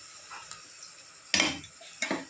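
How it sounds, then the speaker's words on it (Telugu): Onions frying in oil in a pan for chicken curry and bagara rice, heard as a faint low sizzle broken by a few loud stirring scrapes and clatters of a spoon against the pan. "ఆయిల్ అయితే వేసుకున్నా కదా ఇవైతే ఫ్రై అవుతున్నాయి"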